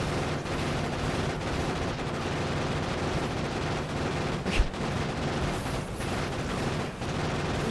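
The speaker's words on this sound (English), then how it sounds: "Just keep shooting them." Continuous rapid gunfire from the video game Factorio Space Age, a dense, steady rattle of shots with one sharper burst midway, filling the whole stretch at even loudness.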